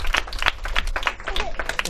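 Audience clapping at a blanket distribution event held by a charitable trust for poor families in Machilipatnam, a short burst of scattered applause mixed with crowd voices.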